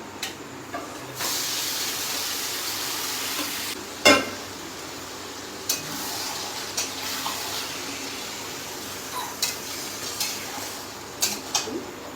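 Chicken and mutton go into a hot cooking pan for a Bengali mutton dish, giving a steady loud steamy hiss with a sharp knock near the start and scattered small clatters throughout.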